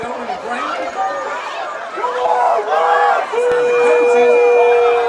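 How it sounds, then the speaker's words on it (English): A crowd at a heated high school football game between West Stokes and Reidsville chatters and shouts continuously, with whoops and raised voices swelling, and one sustained yell toward the end. "You can hear it in the crowd"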